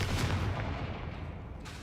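Confringo spell blasts in the game Hogwarts Legacy, a dull booming burst that rumbles and fades over a couple of seconds, fairly quiet.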